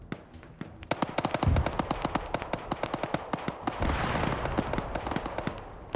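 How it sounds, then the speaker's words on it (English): Mortar fire in a video game: a dense rattle of sharp pops and cracks repeating irregularly, with two heavier low thumps of impacts standing out amid the crackling. "We had another mortar coming over here."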